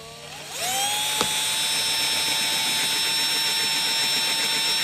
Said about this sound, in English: Now the trick is let the drill do the work.